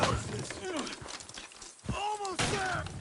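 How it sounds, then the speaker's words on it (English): Horse hooves clip-clop in Red Dead Redemption 2 as horses pull a load, soft rhythmic thuds half-buried under someone talking. "Horses will pull it clean down."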